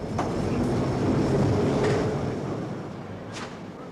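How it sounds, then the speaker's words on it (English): A London Underground train, on the Piccadilly Line stretch, pulls away in a continuous loud rumble of wheels and motors, with a few brief higher squeals, easing slightly toward the end. "pressed the buttons which set the loco in motion"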